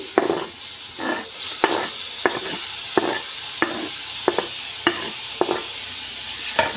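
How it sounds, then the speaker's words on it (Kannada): Ginger and tomato cook in a pan for jeera rice and dal tadka, a soft steady sizzle broken by about a dozen sharp spoon scrapes and stirs at an even rhythm, close and moderately loud, with no voices. "ಹಸಿ ವಾಸನೆ ಹೋಗುವವರೆಗೆ ಚೆನ್ನಾಗಿ ಫ್ರೈ ಮಾಡಲಿಕ್ಕಂತು ಟೊಮೊಟೊ ಹಾಕ್ಕೊಳ್ತಿದ್ದೀನಿ"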